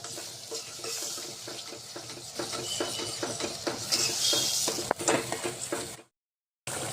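A spice paste of chili and masala cooking in a pan, stirred steadily with a utensil that scrapes and clinks against the metal over a soft sizzle, loud and close, ending in a sudden cutout.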